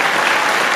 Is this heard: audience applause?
yes